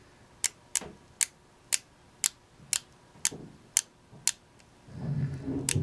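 The unidirectional 60-click bezel of a Citizen Eco-Drive ProMaster Diver BN0190 watch turns in crisp, faint, close clicks, nine or so evenly spaced ticks, followed by a soft rustling handling noise.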